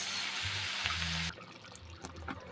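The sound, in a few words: pouring spaghetti sauce into the pan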